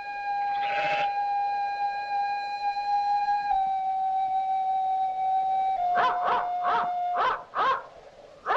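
Several dogs howl in long sustained wails that overlap a steady siren-like tone, followed by a series of shorter rhythmic yelps near the end, moderately loud with no talk.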